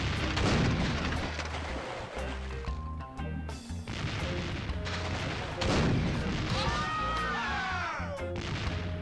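Cannon and gun blasts from the video game The Curse of Monkey Island boom repeatedly in heavy bursts, with crashes and ringing debris between shots and game music underneath.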